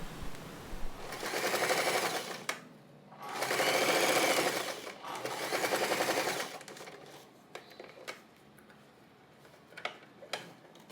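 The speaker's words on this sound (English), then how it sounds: "place it with the right side facing down, and sew this part together" Sewing machine stitching fabric pieces of a zip pouch together, three loud, close bursts of rapid mechanical whirring separated by pauses, followed by scattered small clicks and fabric handling.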